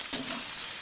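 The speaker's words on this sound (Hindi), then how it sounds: "प्याज को दोस्तों हमें अच्छे से हल्के ब्राउन होने तक अच्छे से चलाना है" Chopped onions fry on medium heat in a kadai, giving a short burst of close, steady sizzling with a quick scrape of stirring at the start and no voices.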